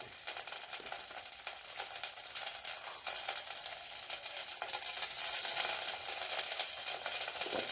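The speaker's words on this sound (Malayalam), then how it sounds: "എണ്ണ ചൂടായി വരുമ്പോൾ കടുക് വറുക്കാം." Mustard seeds fry in hot oil in a pan, giving a steady, continuous sizzle that grows slightly louder partway through, close by with no talking.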